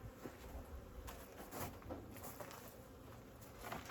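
Honey bees from a swarming colony hum faintly and steadily at an open hive, with occasional soft clicks and knocks from handling the frames.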